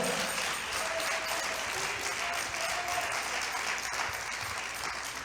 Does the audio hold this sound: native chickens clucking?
no